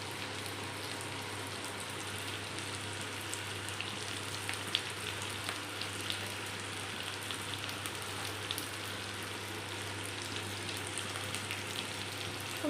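Capsicum and onion frying in a pan, a faint, steady sizzle with a soft crackle, even and continuous throughout with no voices over it.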